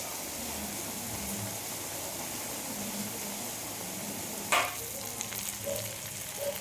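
Prawns cooking with spices and green chillies fry in a pan, a soft even sizzle heard from a distance with a brief clink partway through.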